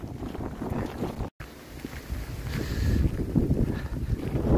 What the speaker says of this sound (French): là maintenant on a droit au vent, à la pluie